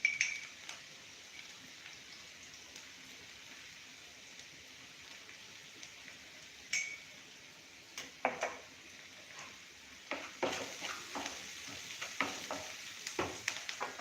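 Onions frying in a pan after a pinch of salt goes in, a steady faint sizzle with occasional scraping stirs that grow more frequent and louder toward the end, no talking.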